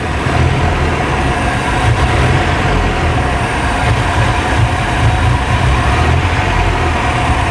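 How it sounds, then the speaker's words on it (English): A 1997 Nissan pickup engine, running lean, revs up and down continuously in a steady, loud rumble with a broad, noisy tone throughout. "And we're revving it up and down."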